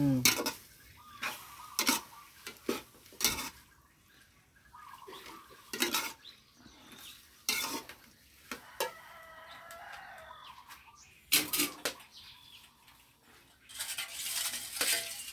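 Bamboo shoots and fingerroot being stirred in a pot, with intermittent scraping and clattering of a utensil against the pot, while chickens cluck and a rooster crows in the background.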